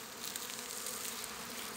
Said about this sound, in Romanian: Haideți să vedem acum ce se întâmplă aici, la acest stup, care aici pare a fi un zbor de orientare.